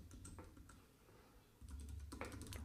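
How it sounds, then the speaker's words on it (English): Quiet keystrokes on a computer keyboard as text is typed, in scattered clicks that speed into a quicker flurry toward the end. "So now I'm going to type in my text"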